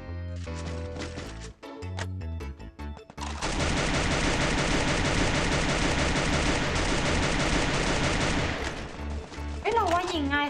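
MP5 with the Galaxy fire skin shooting in the mobile game Free Fire: a few quick shots at first, then a long sustained stream of loud rapid automatic fire under game music and sound effects.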